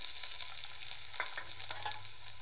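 Ginger and garlic paste frying with onions in hot oil, a soft steady sizzle with a few faint scraping stirs, quiet and close, no voices.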